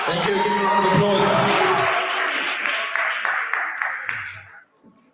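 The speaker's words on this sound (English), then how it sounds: "Give a round of applause." Audience applause at a business workshop, a dense, loud wash of clapping with some cheering and voices mixed in, tapering off and fading out near the end.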